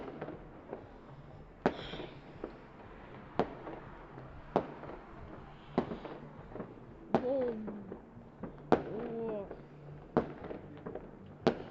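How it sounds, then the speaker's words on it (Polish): New Year's Eve fireworks crack and boom irregularly at a distance, many sharp pops scattered throughout, with people talking quietly underneath. "8 minut do końca roku biją fajerwerki już tam"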